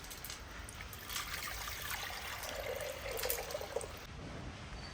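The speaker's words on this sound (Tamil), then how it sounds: "பாசிப்பருப்பு கடைசலுக்கு நம்ம தண்ணி ஊற்றிக்கலாம்." Water trickles and pours into roasted moong dal in a kitchen pan for kadaisal, a soft, faint steady splashing that swells slightly midway over low background hiss.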